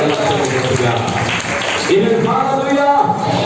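A church congregation claps together in a steady wash of applause while a preacher keeps speaking over it.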